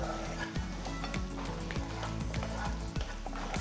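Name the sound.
tomatoes, garlic and green chilies frying in oil on high flame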